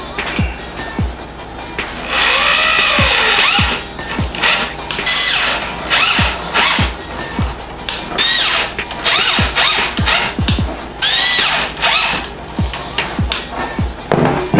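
A power drill drives screws into wood while a homemade calf raising block is assembled, with repeated bursts of motor whine rising and falling, interspersed with knocks and clunks of the boards, close and loud.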